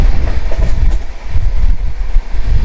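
The Sealdah–Amritsar Jallianwala Bagh Express, just departed Bardhaman, runs loud and close with a continuous rumbling roar and rhythmic clatter of wheels on rails throughout.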